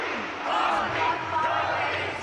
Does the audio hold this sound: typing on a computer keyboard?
no